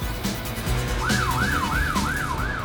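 An emergency vehicle siren on congested European roads wails in smooth rising-and-falling cycles, loud and steady over a constant rumble of traffic.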